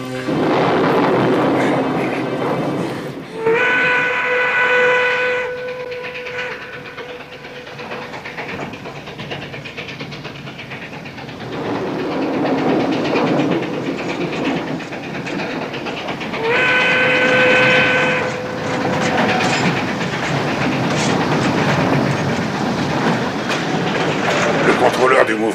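A steam train departs as a bell or whistle tone sounds twice over a constant rumbling chuff and hiss, with voices mixed into the busy scene.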